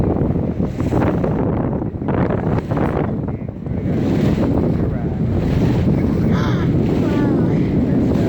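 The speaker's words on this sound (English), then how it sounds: "the boat waves going under us may be some of the biggest waves we get all day" Ocean waves and strong wind during a leisurely boat ride on the sea, a loud continuous rush of wind noise against the microphone with surging water beneath the hull and faint voices.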